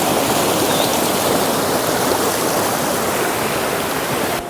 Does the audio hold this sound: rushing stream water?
yes